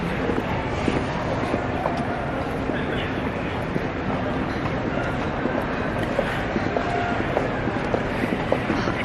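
Steady rumble and rattling of a subway train car in motion, with faint clicks and people talking quietly inside.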